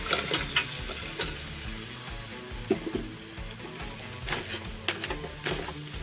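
Cleaned crabs sizzle in hot oil in a pan with fried onions, a steady frying hiss broken by scattered stirring clatters.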